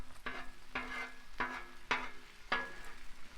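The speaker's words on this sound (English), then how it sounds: "we're going to pop it, and then we're just going to kind of scramble it in" Egg being scrambled and fried on a Blackstone griddle, with five regular scraping strokes of a spatula over a soft, constant sizzle, close and clear, with no talking.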